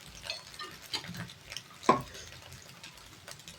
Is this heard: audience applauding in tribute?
no